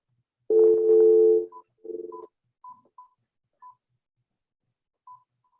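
Telephone call being placed during a tax review board hearing: a short dial tone, then a string of separate keypad tones spaced irregularly, clear and close with silence between.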